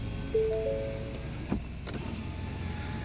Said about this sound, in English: the front windows are auto up and auto down